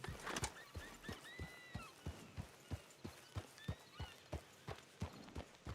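A horse in the western video game Red Dead Redemption Online clip-clops with steady rhythmic hoofbeats, close and moderately loud, while a couple of short whinnies rise over the footsteps.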